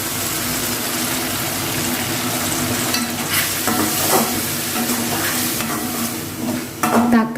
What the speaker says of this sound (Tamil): இப்போ நம்ம அரைச்சி வச்ச தக்காளியை சேர்த்துக்கலாங்க.